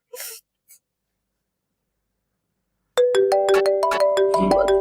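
A short breathy noise and a faint blip give way to silence, then an electronic phone ringtone plays a bright, repeating melody loudly and up close.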